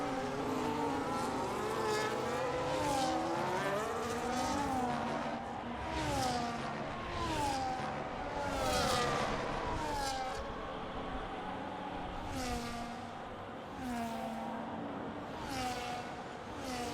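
Race cars in a racing video game at a Belgium circuit roar continuously, engines rising and falling through gear changes as several cars pass, loud and sustained with no talk.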